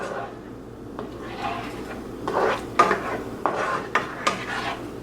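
Meatball sauce seasoned with sazon being stirred in a pot, a spoon scraping and knocking against the metal in uneven strokes that grow louder partway through, sounding close by.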